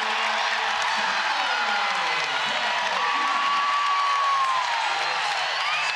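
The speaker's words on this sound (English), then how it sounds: "And that'll get a crowd on their feet" A volleyball arena crowd roars and cheers steadily for Kansas Jayhawks hometown favorite Cameron Turner during a women's NCAA second-round match against Penn State, with a commentator talking over the noise.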